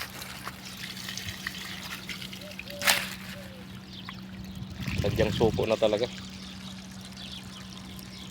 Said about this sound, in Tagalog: Ngayon, lalagyan naman ng tubig eh.